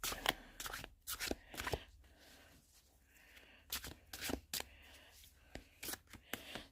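Tarot cards being shuffled, close, crisp riffling bursts in several quick clusters separated by short quiet gaps.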